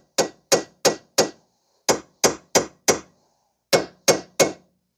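A hammer lightly taps a ball joint on a 2006 Mazda 3 front lower control arm, eleven sharp metallic knocks in three quick clusters of four, four and three, close and clear against silence.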